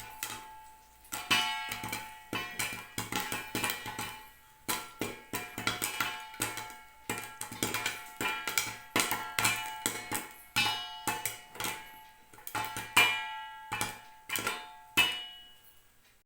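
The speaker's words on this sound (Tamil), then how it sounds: "இப்போ வந்து பாப்கார்ன் பொரிய ஆரம்பிச்சிருச்சு சவுண்டு கேட்குது" Rapid, irregular pops and ticks pattering steadily as popcorn kernels burst inside a covered pan on a dosa griddle, with no talking.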